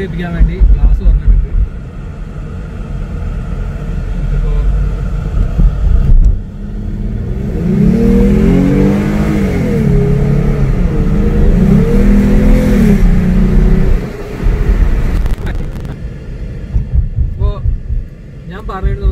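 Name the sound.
rental car engine revving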